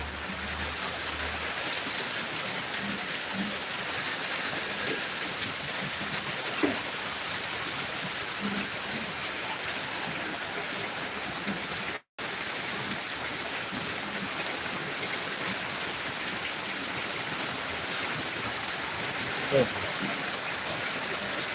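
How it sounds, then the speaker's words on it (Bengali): Heavy rain pours down steadily nearby, a dense, even hiss that runs throughout with only a brief dropout in the middle and no clear voices. "দাদা ভাই খুব বৃষ্টি হচ্ছে"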